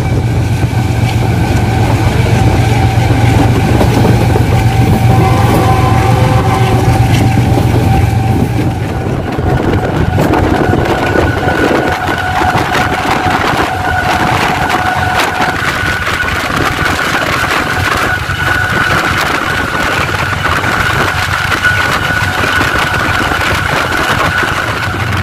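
The 07UP Tezgam Express, hauled by GEU-40 locomotive 9016, runs through Okara Cantt station, giving a steady, loud onboard drone with a low hum and faint sustained tones throughout.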